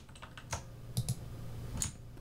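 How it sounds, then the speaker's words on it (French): Ctrl-C pressed on a computer keyboard, a few soft, close key clicks in quick succession over quiet room tone. "Je clique là où je veux, je fais CTRL-C."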